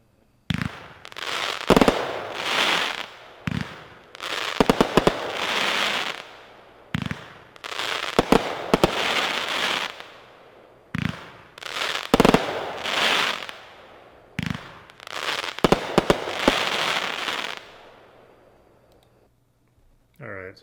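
Neon brand Neon Blue with Crackling Mine firework cake with 20 shots, bursts of loud booming shots followed by dense, hissing crackle, fired in several volleys with short gaps, close and powerful.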